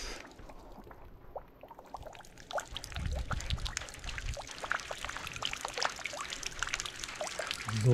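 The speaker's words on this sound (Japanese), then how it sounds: "雨が降っています。" Rain falls at a large Buddhist temple in Wakayama, a dense steady patter and trickle of drops that runs the whole time, with no voices over it.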